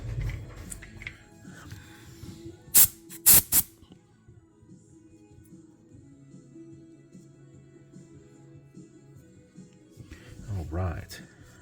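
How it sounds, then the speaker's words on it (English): Canned air fires at a custom PC build in three short, sharp hissing blasts close together, standing out over a low background hum and some faint handling noise. "Let's hit this with some canned air."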